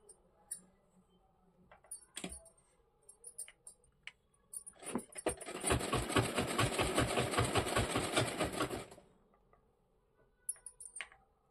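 Sewing machine running a continuous burst of rapid stitching along the hem of a Lakshmi Kalas saree, fairly close and loud for a few seconds, with scattered clicks and handling before and after.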